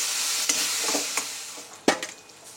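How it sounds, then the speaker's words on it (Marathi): Peeled eggplant for bharit is stirred and mixed in a sizzling pan, giving a soft continuous frying hiss with a few faint scrapes and one sharper knock of the utensil, close by, without talk. "हे छान मिक्स करून घेऊ"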